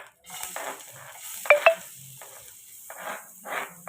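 Finely chopped garlic fries lightly in a pan for a soup, giving a soft intermittent sizzle with a few bright clinks of a utensil against the pan in quiet surroundings.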